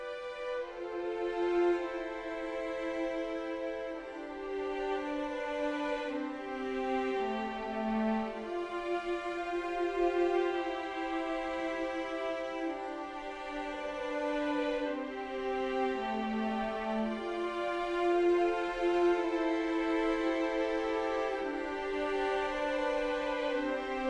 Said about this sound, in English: The string section in its kind of raw form sounds like this.